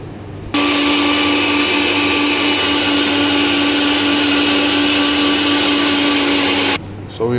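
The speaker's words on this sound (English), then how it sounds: "Okay, so we have to grind our onion first." An electric mixer grinder blends onion. It runs at a loud, steady whine for several seconds, then cuts off abruptly.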